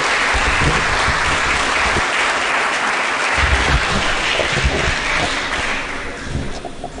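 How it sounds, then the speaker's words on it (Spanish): Warm, sustained applause from a lecture audience, a dense steady roar of many hands clapping that holds loud for several seconds before thinning slightly at the end. "nuestro hermano José Córdoba, por quien pedimos unos calurosos y fuertes aplausos"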